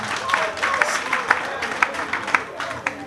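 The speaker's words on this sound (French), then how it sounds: "je vous demande de vous applaudir vous-même en tant qu'acteur" Audience applause at a gathering, dense clapping with a few sharper individual claps standing out, moderately loud and continuous.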